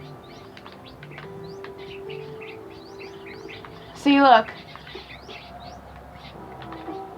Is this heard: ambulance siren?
no